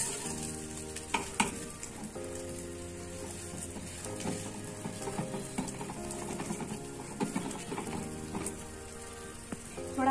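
Bread cooking in a pan gives a steady, close sizzle and crackle for the full stretch, with brief stirring bursts, while tonal background music plays underneath.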